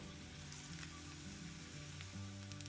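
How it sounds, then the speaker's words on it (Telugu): Dried red chillies and cumin seeds frying in hot oil give a steady, soft sizzle with faint crackles, close and continuous, no voices. "ఎండుమిరపకాయలు వేగుతున్నప్పుడు దీనిలో 1 స్పూను జీలకర్ర వేసుకుందాం."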